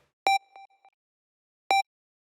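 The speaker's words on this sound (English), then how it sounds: "Then I have this beep sound, which is pretty much the same deal," Two bright synthesizer beeps made in Serum 2 about a second and a half apart, the first followed by short echoing delay repeats fading out.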